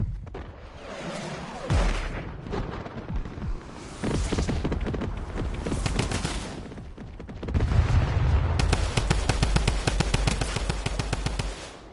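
A gun firing in a video game: heavy bursts of automatic fire and booming blasts come close and loud in several stretches, ending in a long run of rapid, evenly spaced shots.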